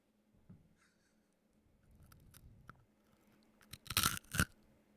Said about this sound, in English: That's a good crunch.